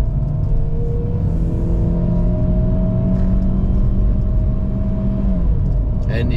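A GAC GS3 B-segment SUV with a 1.5-litre naturally aspirated engine and 6-speed automatic climbs Genting Hill, its steady cabin drone rising before the pitch drops as the gearbox upshifts, with people talking over it.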